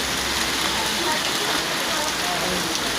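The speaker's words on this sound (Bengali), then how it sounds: "বৃষ্টি পড়তেছে প্রচণ্ড" Heavy rain pours down in a steady, dense, even roar of drops striking surfaces, loud and unbroken for the whole stretch.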